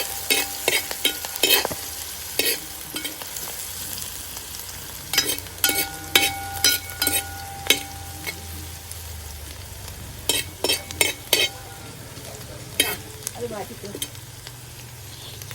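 Onion and ginger stir-fried in a pan for a home-cooked fish curry, with a steady soft sizzle under repeated sharp scrapes and clanks of a large ladle stirring against the pan, close and without voices.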